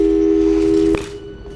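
Telephone line tones in the video game Portal 2, a steady loud two-pitch phone tone that cuts off abruptly partway through, leaving a faint hum.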